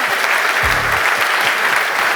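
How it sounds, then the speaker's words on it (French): A conference audience applauds after speakers' testimonies at a data and AI morning event, a steady, dense clapping that fills the room throughout, with a brief low voice murmur partway in. "vous pouvez applaudir Julie, Juliette, Aurélie"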